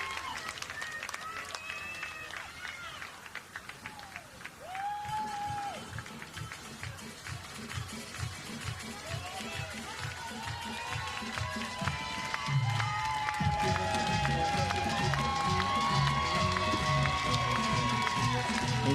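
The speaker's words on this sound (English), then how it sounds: "you hear the cheers from the crowd" Spectators cheer at a college softball game between Marist and Texas Tech, a broad crowd roar that swells louder in the second half beneath continuous commentary, with rhythmic thumping and a few whistles mixed in.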